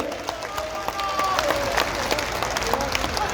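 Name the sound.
applause welcoming a leader at a political rally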